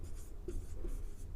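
Marker or chalk strokes on a classroom board as a Class 10 physics teacher writes a definition of luminous objects; short scratchy strokes in a steady rhythm, close and fairly quiet, with no talking.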